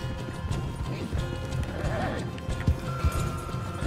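Rapid clopping hoofbeats of a galloping horse in Red Dead Redemption 2, steady and close, with a brief whinny-like cry and other game sounds layered underneath.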